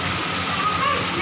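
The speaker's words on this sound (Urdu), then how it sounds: "بہہ کے جا رہے ہیں پانی" Rainwater rushes through a flooded street in Karachi's Surjani area, a loud, steady roaring flow filling the brief moment without pause.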